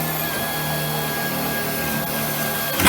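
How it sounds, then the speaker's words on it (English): A power drill whirs steadily while boring holes in P-40 aircraft parts, a close, continuous mechanical drone that ends with a brief louder burst. "go ahead and drill the next two"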